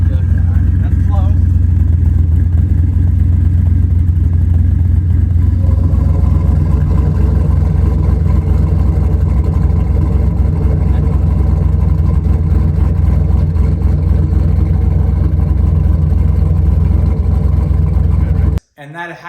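Turbocharged, LS-swapped BMW E36 accelerating hard under sustained full load, its engine roaring loudly and steadily for about eighteen seconds before cutting off abruptly; no talk is heard over it.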